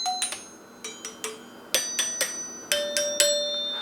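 A NuTone K40 Westminster door chime with two large brass resonator tubes and four tone bars rings out a series of about a dozen struck notes, each bright and clear with a lingering metallic decay, close and alone.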